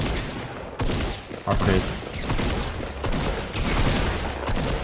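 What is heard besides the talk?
shotgun gunfire in the video game Fortnite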